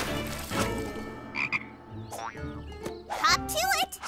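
A cartoon frog croaks in a handful of bouncy, springy calls, close and fairly loud, with a voice talking around them.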